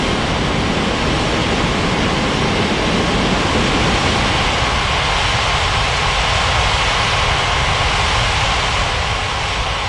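Airliner taking off at Capeville City International in Unmatched Air Traffic Control, a loud, steady jet engine roar with broadband rushing noise sustained throughout, no voices.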